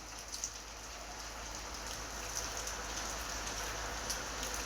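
Steady rain falls continuously, a dense even hiss with scattered drop patter, fairly soft and unbroken.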